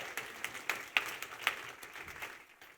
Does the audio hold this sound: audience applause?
yes